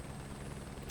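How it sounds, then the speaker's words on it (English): A helicopter in Microsoft Flight Simulator 2024 near Rotorua's Kaharoa bush, its rotor drone a faint, steady, even throb. "we've got off our helicopter now"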